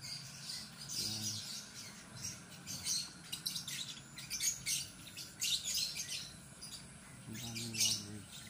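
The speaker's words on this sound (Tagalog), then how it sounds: "Ang daming lovebirds." A flock of lovebirds chirps in bright, rapid bursts, many high tweets overlapping throughout, with a couple of lower squawky calls near the start and end.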